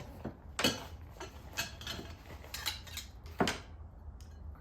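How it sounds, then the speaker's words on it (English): Metal mountaineering crampons handled up close, sharp clinks and rattles in scattered irregular bursts over a quiet background. "crampons. These just kind of slide on, just in case."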